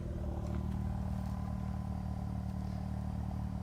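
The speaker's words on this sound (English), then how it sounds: "Just going to show you the exhaust here." A 1995 Mazda RX-7 Type R Bathurst Edition rotary engine idles, its exhaust giving a steady, close low drone with an even, unchanging throb throughout.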